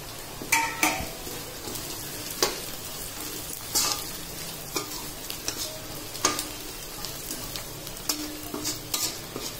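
Grated coconut fries in hot oil in a pan for Pallipalayam chicken, giving a steady soft sizzle. A utensil scrapes and clinks against the pan at irregular intervals.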